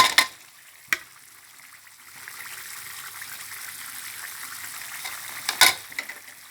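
Fish is stir-fried at high heat in a wok with fried kaffir lime leaves and dried chili. A soft, steady sizzle runs beneath a few sharp scrapes and clinks of the spatula against the pan.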